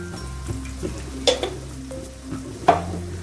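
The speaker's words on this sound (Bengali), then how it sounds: "এবারে আমি ভালো করে মশলাটার সাথে মিশিয়ে নেব" Prawns and potatoes with turmeric, salt and spices are stirred in a frying pan, giving a steady close sizzle broken by several sharp spoon scrapes and clinks against the pan, with no voices.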